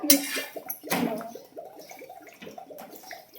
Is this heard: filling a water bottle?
yes